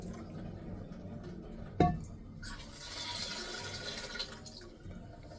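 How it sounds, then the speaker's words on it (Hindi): Water pours over lentils in a vessel to soak them, a brief knock followed by a steady mid-loudness splashing and trickling that lasts a few seconds before trailing off, close by and without talk. "लो भाई, दाल भी भिगो दी।"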